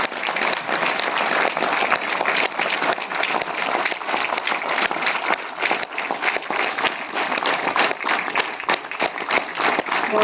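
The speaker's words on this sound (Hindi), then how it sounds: "जोरदार तालियां हो जाएं।" A crowd claps at a Delhi railway goods-shed workers' union program, a sustained, even wash of many hands lasting about ten seconds at moderate level with no talk over it.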